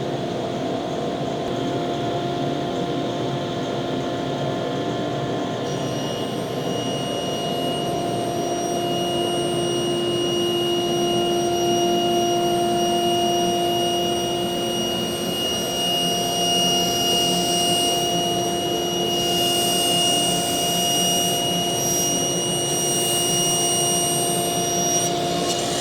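A table saw running steadily for a long stretch, a loud, even motor drone with a whining tonal hum close by, unbroken and without talk.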